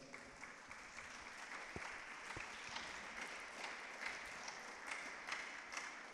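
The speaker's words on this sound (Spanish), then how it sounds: "¿Por qué no das un fuerte aplauso al Señor?" A church congregation applauding during a worship service, a dense, sustained wash of many hands clapping that holds steady throughout, heard from a moderate distance.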